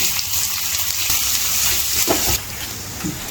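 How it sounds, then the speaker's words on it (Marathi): Sliced onions sautéing in hot oil in a home kitchen give a steady, close sizzle and hiss, with a brief stir partway through and the frying continuing a little quieter afterwards. "आपण जो 2 कांदे चिरून घेतले ते उभे, ते तेलामध्ये आपण परतून घेऊ."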